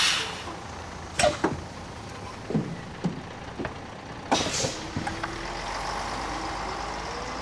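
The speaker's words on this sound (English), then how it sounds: "Sadia and her sponsor exit the store and board a public transit bus." A public transit bus idles and pulls away, with engine rumble, sharp hissing bursts of air brakes and thumps of boarding, building to a steady louder drone near the end.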